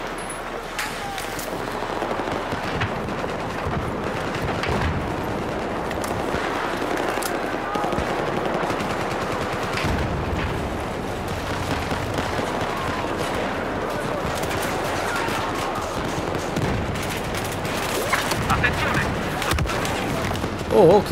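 Gunfire in the video game Battlefield 4: a dense, continuous rattle of automatic weapons and shots throughout, with no break.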